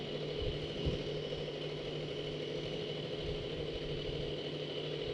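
A motorcycle engine idles with a faint, steady low putter and hum in the background of a religious sermon, unbroken throughout.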